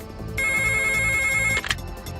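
A telephone rings in a police scene from a TV drama, sounding one steady, loud electronic ring for about a second before it cuts off abruptly. Low background hum continues around it.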